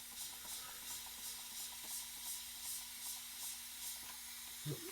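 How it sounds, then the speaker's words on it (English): A hand water sprayer pumps repeated spritzes onto a shaving brush, a steady series of soft, airy hisses in an even rhythm, close and fairly quiet, with a brief knock near the end. "Go ahead and add water from the sprayer."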